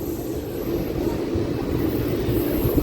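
A Tirupati superfast train rushes past at a railway crossing on a coastal route, heard as a steady, loud, low rumble with a hissing wash on top, unbroken from start to finish.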